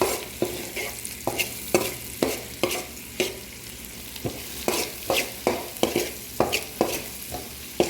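Onion sautéing in a pan with fried shrimp and garlic, a close, steady sizzle broken by regular scraping strokes of a spatula stirring the mix, with no voices.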